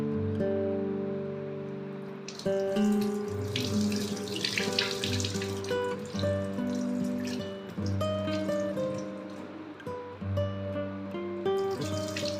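Dried fish is rinsed in water to wash out sand, with splashing, sloshing and dripping over a steady running-tap hum, close and moderately quiet, no talking.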